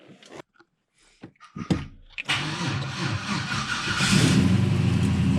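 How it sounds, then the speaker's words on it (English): Chevrolet Monte Carlo SS with a newly installed LS engine, jump-started: a few short starter cranks, then it fires and settles into a loud, close idle rumble that grows slightly with light revving. "Let's see if we can get this bad boy to start up"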